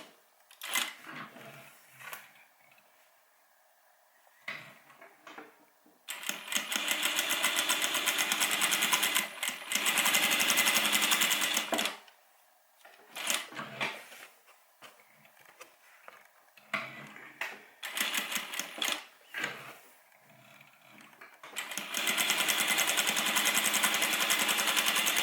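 A sewing machine stitches fabric for a homemade airliner cabin bag in several bursts: long, loud runs of rapid mechanical whirring broken by quieter stretches of handling clicks and short back-stitch spurts.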